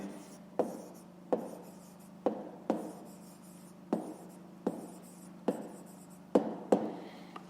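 A pen writes an answer on paper for a fifth-grade maths exercise, making short scratchy strokes in a steady rhythm of taps and scrapes, close and quiet, with no talking.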